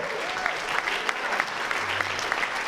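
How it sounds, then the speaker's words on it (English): A crowd claps steadily, a dense patter of many hands, moderately loud and continuous throughout. "Let's have another hand for Kaya Berman-Peters, Jessica Kate Meyer,"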